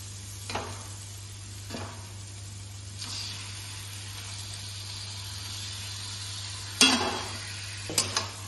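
Chicken pieces drop one by one into hot spiced oil for chicken dopiyaza, each landing with a sharp sizzle burst over a faint background hum, the loudest splatters coming near the end.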